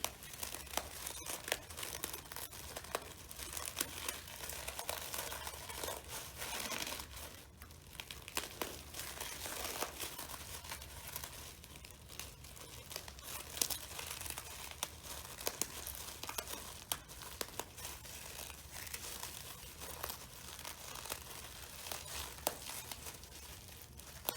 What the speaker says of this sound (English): then both your hands, you're just going to start squeezing it to make it all crumbly